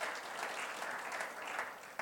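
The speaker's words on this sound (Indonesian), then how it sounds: "Boleh tepuk tangan lagi bagi Tuhan." Dense, steady applause from a large church congregation at a Sunday service fills the room, a continuous patter of many hands clapping at moderate volume.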